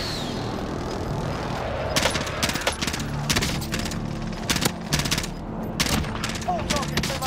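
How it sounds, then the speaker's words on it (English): Gunfire and explosions from a friendly precision airstrike in a shooter video game: rapid bursts of automatic fire and sharp cracks in clusters over a steady rumbling backdrop, fairly close, with people talking intermittently. "Friendly precision airstrike inbound."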